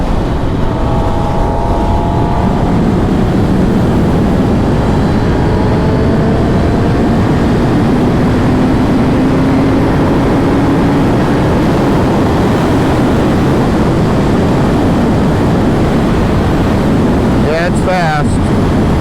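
A 2023 Kawasaki ZX10R motorcycle accelerating at half to three-quarter throttle, engine pitch climbing through the revs under loud steady wind roar, with a brief rising whine near the end.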